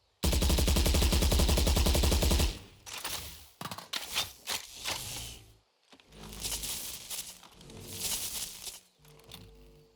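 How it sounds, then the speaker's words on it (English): In Valorant, a Magepunk Phantom rifle fires a rapid automatic burst, then comes a sequence of reload clicks, clacks and an electric surge, all loud and close with no talking. "I particularly like the reload sound and the surge of electricity at the end when your gun is done reloading."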